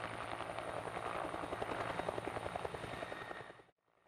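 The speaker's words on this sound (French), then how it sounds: "L'hélicoptère atterrit sur la montagne." A green and white helicopter sets down on a mountain, its rotor beating in a steady, loud, close thump that holds for about three and a half seconds before cutting off abruptly into near silence.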